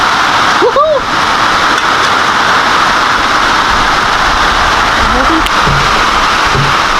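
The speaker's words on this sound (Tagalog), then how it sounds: "Grabe yung ulan." A steady, dense roar of heavy rain at sea fills the whole clip, loud and unbroken, with a brief voice-like sound near the start.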